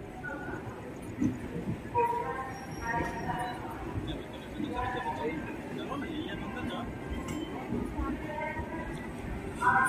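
A passenger train pulls out of Jasidih station, heard from on board as a steady rumbling clatter with rhythmic wheel knocks and occasional squeals, while people talk over it.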